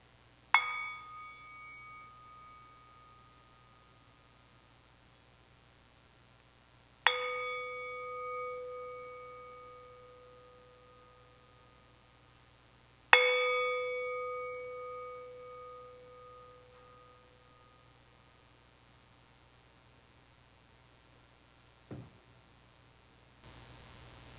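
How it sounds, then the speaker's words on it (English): A gong is struck three times several seconds apart in a Sunday Assembly gathering in Los Angeles, each hit ringing out and slowly fading in a quiet room, followed by a faint soft knock. "I'm going to hit this gong up here"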